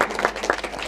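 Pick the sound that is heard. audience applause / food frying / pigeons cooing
audience applause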